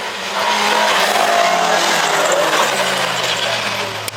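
Saloon race cars at Cadwell Park roar past at full throttle, a loud, dense engine blare with tyre noise that swells and holds, sounding close to the track.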